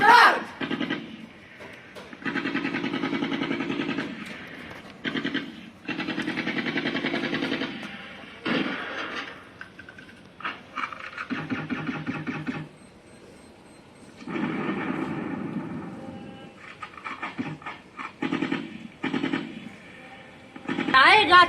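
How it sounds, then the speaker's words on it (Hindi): Bursts of staged gunfire in a short film play in several long rattling volleys separated by pauses, with some short clattering bursts in between, moderately loud throughout. "सिपाहियों, फायरिंग स्टार्ट करो।"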